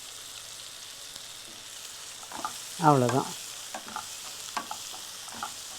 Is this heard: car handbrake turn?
no